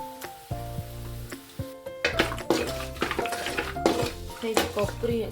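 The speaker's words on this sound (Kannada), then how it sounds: "ನೆಕ್ಸ್ಟು ಇದೇ ರೀತಿ ಕೊಬ್ಬರಿ ಹುರ್ಕೊಳ್ಳೋಣ." Grated coconut being roasted in a pan for spicy puffed rice, with clattering utensil scrapes and pan knocks under a faint sizzle, irregular and close.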